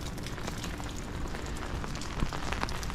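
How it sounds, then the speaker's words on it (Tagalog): Steady rain pattering on surfaces outdoors in Korea, a dense continuous hiss of drops at moderate level with no talking, heard near a bus stop on a walk home. "So, umuulan siya, guys. Ayan, umuulan."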